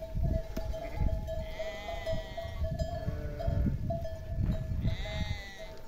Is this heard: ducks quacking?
no